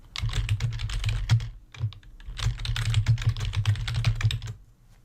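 Fingers type quickly on a computer keyboard in bursts of crisp, rapid clicks, with a short pause in the middle, close and clear without talk.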